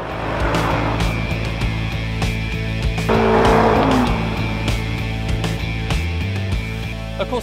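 A Jaguar sedan accelerates hard with a deep, loud engine roar, and a squeal of tires rises in the middle before it shifts gears and pulls on.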